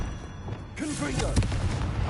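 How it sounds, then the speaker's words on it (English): Confringo spell blast in Hogwarts Legacy, a booming, explosive burst that erupts after a quiet start and rumbles on with a second strong thump, heard under a voice. "Confringo."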